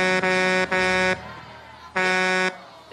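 Loud, blaring horn honks: two quick blasts close together, a pause, then a third longer blast, all near and harsh.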